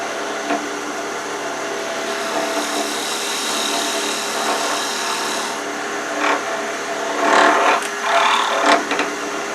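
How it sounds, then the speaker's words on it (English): Thin parting tool cuts detail into a chess pawn spinning on a wood lathe: a continuous close scraping rasp over the motor, with brief louder bursts of cutting near the end. "use my thin parting tool to come in here and make that little bit of detail"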